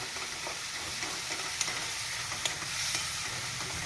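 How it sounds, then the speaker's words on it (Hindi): Chopped onions frying in a pan for moong dal kachori, a continuous close sizzle and crackle with faint stirring scrapes, no talking. "अब इसके अंदर डालेंगे थोड़े प्याज, और प्याज को हम थोड़ी देर होने देंगे ऐसे"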